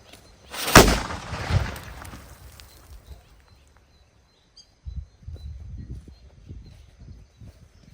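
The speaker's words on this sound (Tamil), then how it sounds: "வெடி சவுண்ட் கேட்டிருப்பீங்க." A single sharp nattu vedi firecracker blast bangs loudly, followed by a brief rumble and echo, then quiet and scattered low rustling.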